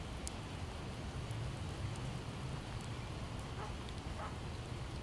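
Rain in the video game Project Zomboid, a steady, dense patter of drops on surfaces, quiet and continuous throughout with no talk.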